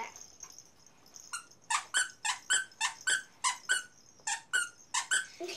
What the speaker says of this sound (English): And a toy for a baby elephant. Look, it can even squeak.